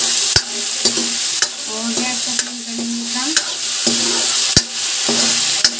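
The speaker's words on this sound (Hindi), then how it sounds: "और अभी सब्जियाँ डाल के नमक हम चढ़ा देंगे।" Salted chopped vegetables stirred in a hot pan, steady loud sizzling punctuated by sharp regular spatula clacks against the metal roughly every second, with a faint whistling tone rising and falling in the background.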